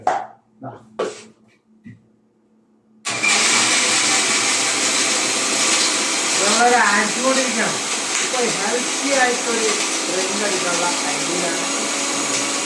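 A blender grinds dates for a sugar-free health drink, a steady loud whirring motor drone that starts abruptly after a few seconds of quiet and brief talk, with a voice speaking over the running machine.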